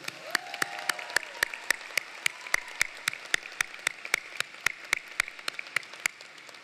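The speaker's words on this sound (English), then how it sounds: "let's get a round of applause for the greatest graduating class in Alpharetta High School history" Applause at a 2021 Alpharetta High School graduation ceremony, heard as evenly spaced sharp claps in a steady rhythm over a faint crowd wash, fairly distant and quiet.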